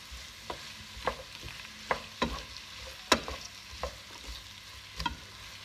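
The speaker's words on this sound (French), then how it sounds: "On mélange." Two heaping spoonfuls of tomato concentrate being stirred into vegetables in a pan, a quiet bed of sizzle broken by a dozen sharp spoon scrapes and taps at an uneven rhythm, close and without speech.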